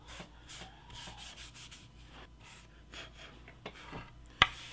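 A Scotch-Brite pad rubs along the grain of a solid-body electric guitar body during finish sanding, giving a soft, continuous close-up scuffing with faint strokes and a sharp tap near the end.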